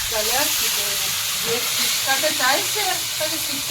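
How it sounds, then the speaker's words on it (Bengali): Fish sizzle and spatter in hot oil in a home kitchen, a steady crackling fry running throughout under intermittent background voices. "কি হলো এত তেল ছিটকাচ্ছে কেন"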